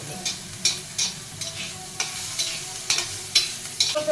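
Ginger pieces fry in a pan with a soft hiss, punctuated by repeated sharp scraping taps of stirring roughly every half second, close and clear.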